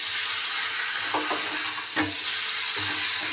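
Spices with turmeric fry in a pan, a steady dense sizzle broken by a few scraping stirs, close and fairly loud throughout.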